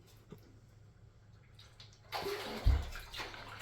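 Water gushes out of an old, heavy well pressure tank with a failed bladder, starting abruptly after a quiet stretch, then splashing loudly with a heavy thud and continuing to pour nearby.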